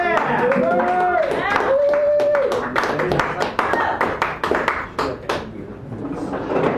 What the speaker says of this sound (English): let's please welcome to the stage with a big round of applause